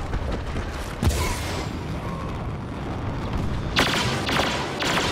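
Blaster shots ring out in a Star Wars Battlefront firefight, a few sharp bursts standing out against a constant loud battle din, with a tight cluster of shots near the end.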